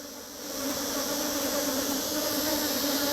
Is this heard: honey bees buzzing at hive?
yes